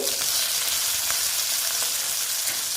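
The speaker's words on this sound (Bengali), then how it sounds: "আরেক দিকটা ভাজা হচ্ছে দেখো বন্ধুরা আমার মাছ ভাজাটা প্রায় হয়ে গেছে" Boal fish pieces fry in a pan of oil, a close, steady crackling sizzle with small pops that runs evenly throughout, with no voices.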